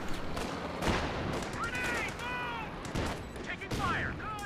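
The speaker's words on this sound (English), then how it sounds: "Another rifle grenade." Gunfire and a rifle grenade in a competitive tank-and-infantry video game match: sharp shots and bursts punctuate a busy battle din, with whistling projectile sounds weaving between the impacts.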